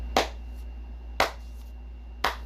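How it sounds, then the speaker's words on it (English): Three slow, evenly spaced single hand claps ring out alone in a quiet space, each sharp and fairly close, with about a second between them. "A slow clap started appearing walking through the forest."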